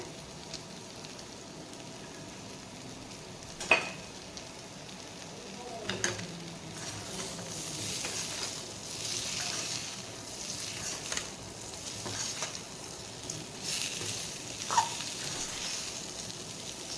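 Potatoes with crushed roasted peanuts fry gently on a low flame, giving a soft steady sizzle broken by a few sharp scrapes and clinks of a stirring spoon against the pan, fairly quiet and close.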